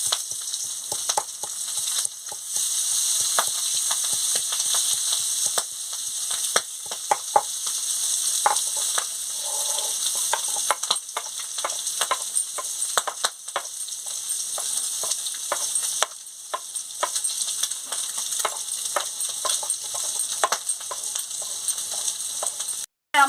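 Magur fish frying in hot oil, a loud, continuous crackling sizzle with dense spitting pops that carries on steadily for over twenty seconds, with no voices.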